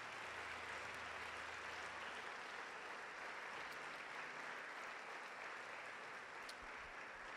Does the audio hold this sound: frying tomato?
no